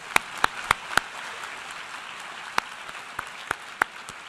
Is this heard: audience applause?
yes